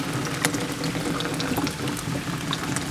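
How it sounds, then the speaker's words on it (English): A rainwater tank fed through a leaky first-flush diverter fills slowly, giving a soft continuous trickle and gurgle of running water with scattered small drips and splashes, fairly quiet and without talking. "you can hear the tank slowly filling"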